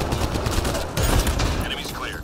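Rapid gunfire in the video game Mass Effect: Andromeda, a dense crackle of shots running through the whole short stretch as someone talks over it.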